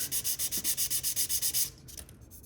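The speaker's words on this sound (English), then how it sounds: "now that I'm done with my 600 grit" Twelve or so quick, even strokes of 600 grit sandpaper rubbing close up on a prepared icon panel, stopping abruptly and followed by a few faint handling noises.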